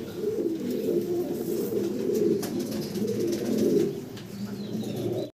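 Pigeons, including fancy breeds kept for sale, coo in low, steady, overlapping murmurs that fill the whole stretch at close range, with a few faint chirps above.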